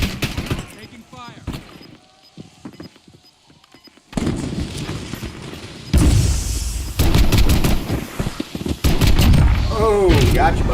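Gunfire in a Call of Duty Warzone match: bursts of shots and loud cracks come in several clusters, some close and heavy, with talking mixed in around them.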